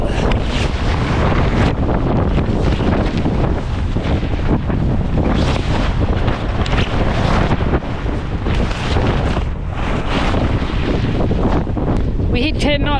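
A sailboat runs fast through a choppy bay, with heavy wind roaring and buffeting the microphone over rushing water and waves slapping the hull throughout.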